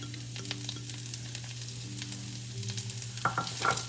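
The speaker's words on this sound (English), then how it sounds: "We're just really giving these a quick, really quick saute." Mushrooms get a quick sauté in a pan, unseasoned, giving a soft continuous sizzle with a low steady hum beneath it and a few light stirring clatters near the end.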